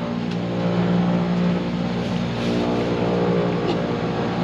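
An aircraft engine spins up for departure on a flight to Banda Neira Island, a steady loud droning hum with strong low tones that holds evenly throughout.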